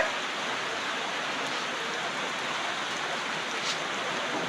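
Heavy midday rain pours down at Mirpur bus stand in Kushtia, a steady dense hiss that stays loud and unbroken throughout with no voices.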